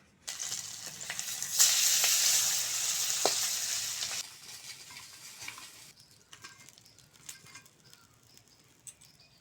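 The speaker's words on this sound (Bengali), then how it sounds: "বাকি দু পিস মাছ একইভাবে ভেজে নেব" Fish pieces fry in hot oil with a loud, close sizzle and crackle for several seconds, then it settles to a quieter spatter with light stirring sounds.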